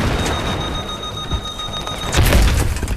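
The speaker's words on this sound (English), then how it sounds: "They blew up the bridge." Bridge blown up in Battlefield 3, a loud blast bursting in about two seconds in, after a steady tone and scattered gunfire, with rumbling debris following.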